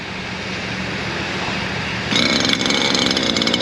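A string trimmer runs continuously as it cuts through debris a tree company left behind. It is a loud, close, steady motor whine that gets harsher and louder partway through, with no talking.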